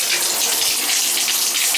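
Water pours steadily from an adjustable shower head in a bathroom, a close, loud, even hiss with no break and no talking.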